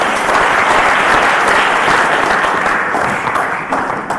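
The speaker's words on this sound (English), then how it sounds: "Ladies and gentlemen, a round of applause." Sustained, loud applause from a large audience fills the space evenly, with a dense wash of clapping that tapers slightly toward the end.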